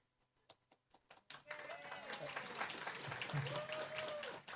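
Audience at an anniversary expo event clapping together, starting as a few scattered claps and swelling into steady, fairly close applause with some voices mixed in.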